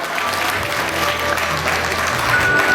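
Wedding reception guests applauding, a dense wash of clapping at moderate level with a faint tonal hum and a brief high tone beneath, no clear speech.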